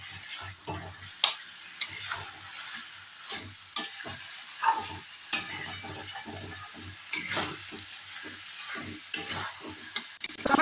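Chicken sautéing in butter and mustard oil for biryani, with repeated stirring scrapes and clatters over a low, soft sizzle, close and fairly quiet, with no talk.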